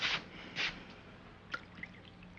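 Water poured into a glass in a 1952 western, two short splashy pouring bursts near the start followed by a couple of faint drips, with no talk.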